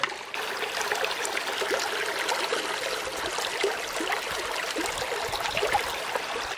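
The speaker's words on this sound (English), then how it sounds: "We'll refill with some more of this creek water." Creek water trickles and splashes steadily near the microphone as a bottle is refilled from a small flowing stream in Dolly Sods, West Virginia, with fine bubbling and dribbling detail throughout.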